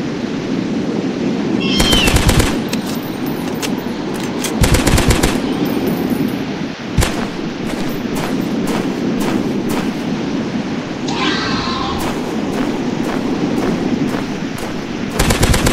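Gunfire in the Dinosaurs Hunter video game, sharp bursts of shots at about two, five and seven seconds and again near twelve and fifteen, loud over a steady background rumble.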